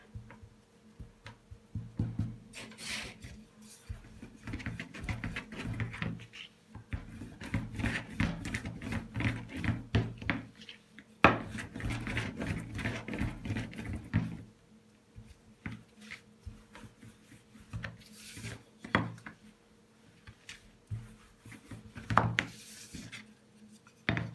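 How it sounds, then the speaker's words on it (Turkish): Gözleme dough, a spinach-filled Turkish flatbread, being rolled out on a floured counter, giving soft repeated rubbing and thudding strokes in uneven bursts, close up with no talking. "Tezgahımızın üzerine un serpip bezemizi açmaya başlayalım"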